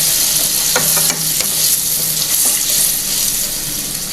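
Tomato and onion simmer in thin second-press coconut milk, a continuous loud sizzle and bubble with occasional stirring scrapes and clinks.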